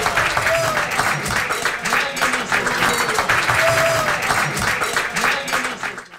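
A studio audience at a live rock radio show breaks into loud, sustained applause, a dense continuous roar of clapping that holds steady for several seconds before tapering off, with some voices mixed in.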